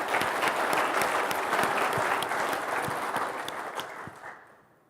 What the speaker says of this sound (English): let's give a big round of applause for all of you guys